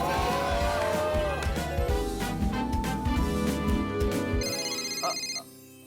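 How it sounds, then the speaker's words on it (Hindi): A mobile phone plays a bright melodic ringtone at a pizza party in the sitcom Taarak Mehta Ka Ooltah Chashmah, loud and up close over busy background noise and chatter, before the sound cuts to near silence at the end. "पापा का फोन है।"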